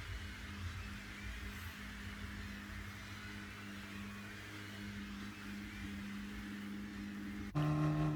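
Gr3 race cars roll toward a start in Gran Turismo Sport, a steady low engine drone holding for several seconds before an abrupt louder, harsher tone cuts in at the end.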